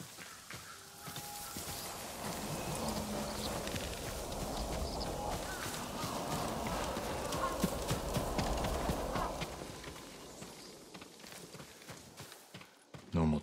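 Horse hooves clip-clop at a steady walking pace in Ghost of Tsushima, with a dense game soundscape around them, running close and continuous for most of the stretch.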